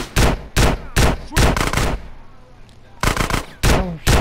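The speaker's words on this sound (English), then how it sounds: "I'm gonna shoot you with a shotgun." Loud, close shotgun blasts in the video game GTA San Andreas, about seven booming shots in quick irregular succession with a brief gap midway, and no clear talking over them.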